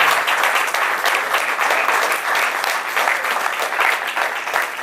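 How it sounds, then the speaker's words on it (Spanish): A church congregation claps hard and steadily in praise during a Christian sermon, a dense, continuous wash of many hands at even loudness throughout, with no voices standing out. "Y dale fuerte un aplauso al Señor,"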